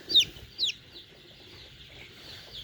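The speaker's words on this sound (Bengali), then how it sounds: "এই যে দেখেন মুরগিরা দেখছেন" Chickens the day after a Gumboro disease outbreak, with antibiotic-dosed water nearby, give a few short, high clucks near the start, then softer scattered calls over a quiet background with no talking.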